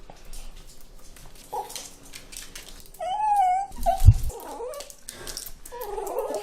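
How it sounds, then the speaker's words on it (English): A dog whimpering and crying close up, a high wavering whine rising and falling over a few seconds, with some faint breathing and background noise around it. "it won't be as enjoyable for you to hear his cries and heavy breathing very close up"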